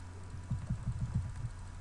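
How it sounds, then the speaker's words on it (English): Control and arrow keys on a computer keyboard are tapped in a quick run of about eight soft, evenly spaced clicks, faint and close, with no voices. "Now just move using control and arrow keys."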